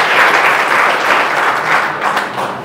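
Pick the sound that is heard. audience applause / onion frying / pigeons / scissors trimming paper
audience applause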